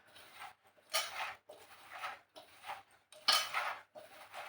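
Masala spices being stirred into besan (gram flour) in a bowl for fried brinjal, a spoon scraping and clinking in short repeated bursts about once a second, close by and moderately loud, with no talking.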